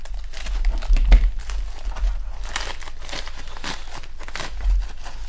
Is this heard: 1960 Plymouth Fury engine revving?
no